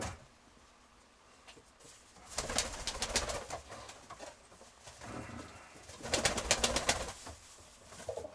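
Pigeons kept in a loft coo softly, with quiet rustling and two bursts of sharp wing flapping nearby as the birds move about.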